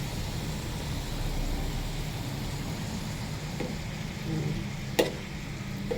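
Mixed vegetables stir-frying in a pan with salt and soy sauce, a steady broadband sizzle running throughout, with a sharp utensil clack near the end.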